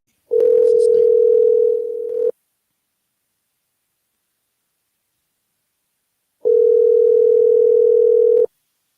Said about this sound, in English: It's ringing good. Hope he answers.